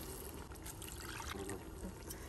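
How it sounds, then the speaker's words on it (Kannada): Cups of water poured into rice for donne biryani, a soft, steady pouring trickle heard up close for about two seconds, with no one speaking. "ನಾನು ಈಗ 3 ಕಪ್ ಅಷ್ಟು ನೀರನ್ನು ಹಾಕ್ತಾ ಇದ್ದೀನಿ"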